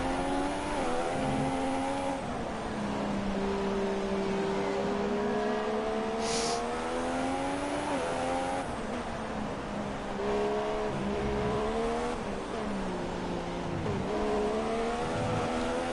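Formula 1 race car in F1 2016, driven by Sergio Perez, engine screaming loud and continuous, pitch sweeping up through gears and dropping into corners, with a brief high hiss midway; no voices.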